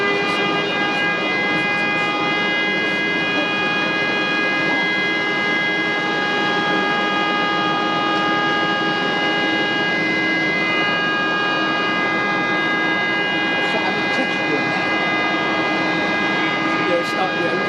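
Boeing 747 engines spool up with a steady, loud, droning whine and sustained tonal hum that holds evenly throughout.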